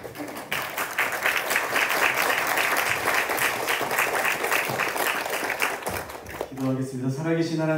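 A church congregation applauds loudly and continuously to welcome the pastor, dense clapping filling the space before a voice begins speaking over the fading applause near the end.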